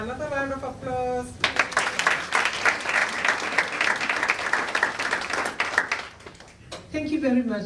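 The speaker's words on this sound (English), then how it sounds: "Another round of applause." Loud, dense audience applause at a formal national event. It follows a brief bit of talk and fills about five seconds before the talk resumes.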